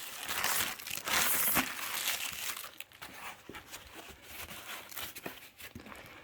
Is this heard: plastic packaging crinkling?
yes